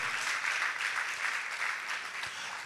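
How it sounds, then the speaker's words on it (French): A crowd applauds at a fashion show, a steady wash of clapping from many hands that stays fairly even and moderately distant throughout, with no voices breaking through. "Merci d'applaudir bien fort."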